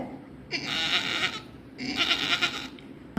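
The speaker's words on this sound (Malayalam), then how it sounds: "അപ്പോഴാണ് ഒരു മുട്ടനാട് അവിടേക്ക് വന്നത്." A billy goat in a children's story gives two drawn-out bleats, each lasting under a second, fairly loud and separated by a short pause, with no talk over them.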